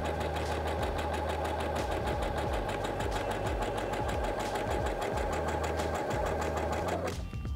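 A Heavy Duty 6800C sewing machine runs a stitch at a steady fast rhythm, its needle mechanism whirring and thumping close up for several seconds before stopping abruptly, with no talking.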